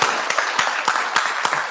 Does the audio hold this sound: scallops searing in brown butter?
no